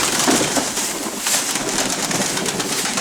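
Double-crested performing pigeons coo softly amid a dense hiss of rustling and fluttering, several birds close together inside a coop.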